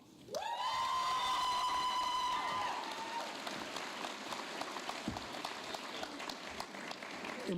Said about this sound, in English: Impressive cheering there.